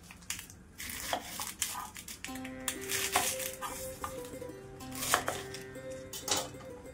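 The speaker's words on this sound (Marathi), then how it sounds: "पाण्याला उकळी फुटेपर्यंत मी कांदा कट करून घेणार आहे" A knife cuts onion on a board with a quick run of crisp chops, a pause, then more uneven cuts under a faint steady hum, close and moderately loud, no talking.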